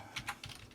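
Several quick taps on a computer keyboard, typing a short file name, come in a close, quiet burst with no voice over them.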